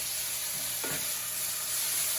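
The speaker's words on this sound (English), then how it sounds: "Like thin shaved beef, it cooks fast. We're just going to keep this moving." Thin shaved beef stir-frying in a hot pan, a steady soft sizzle with a brief scrape of stirring partway through, close and without talk.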